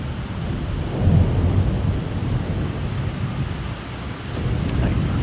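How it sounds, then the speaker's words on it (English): Thunder from a thunderstorm with lightning, heard from inside a metal greenhouse structure: a low, sustained rumble with a swell near the start, layered over a constant wash of rain. "whoa, there's lightning, lots of lightning"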